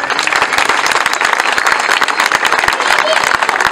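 Wedding guests applauding as a Turkish couple is pronounced married, dense sustained clapping from a crowd mixed with voices and cheers throughout.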